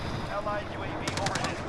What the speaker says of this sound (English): They're just throwing grenades at me, and firing the machine guns at me.